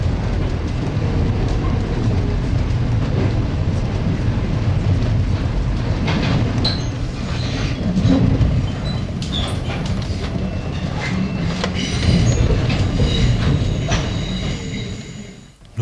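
The Overland train on broad-gauge V-Line track near Geelong, with a loud continuous rumble of wheels on rail, rhythmic clickety-clack of joints and occasional high wheel squeals, heard from inside or close by.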